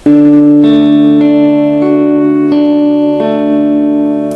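A sequence of sustained, ringing plucked guitar notes from a song, each new note entering over the decay of the last, clear and close with a touch of reverb.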